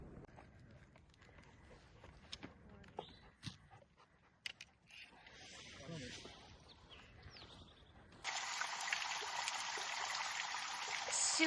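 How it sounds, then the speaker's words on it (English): A stream flows at a water source on the Appalachian Trail between Sassafras Gap and Cody Gap. It comes in as a loud, steady rush in the last few seconds, after quieter moments of a dog panting and footsteps on the trail. "Super pretty water source."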